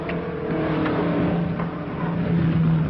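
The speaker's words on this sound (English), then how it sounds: "There's the Blonde Comet's car coming out again." Classic film-era race car, the Blonde Comet's car, driving out with a continuous rumbling engine that swells and revs steadily and loudly throughout, with no talk.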